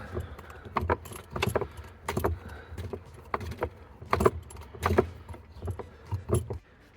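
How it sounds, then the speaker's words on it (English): Spare tire hold-down being unscrewed in the trunk of a Mercedes R129 SL, a series of close metallic clinks and rattling turns in irregular bursts with short pauses between them. "Here I'm just going to have to undo my spare tire."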